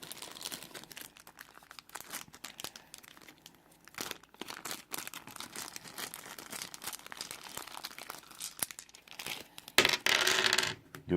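Dice being shaken and tossed for the Tiny Epic Galaxies board game, a steady patter of small clicking and rattling impacts, with a louder, brighter burst of clattering near the end.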